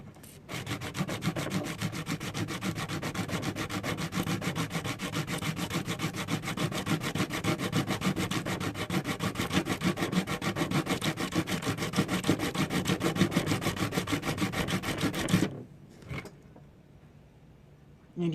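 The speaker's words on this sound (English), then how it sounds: "since I'm sanding so hard and so fast, it's like melting it's creating friction" Plastic being hand sanded hard and fast produces a rapid, steady rasping scrub that runs without a break for about fifteen seconds, then stops abruptly, followed by a few faint handling noises.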